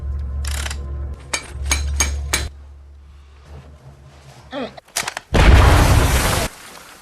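A mining crew's explosive charge blasting open a huge chasm in a deep cave, heard as a loud, roaring burst of rumbling debris after scattered sharp bangs and low mechanical noise, lasting a couple of seconds before cutting off.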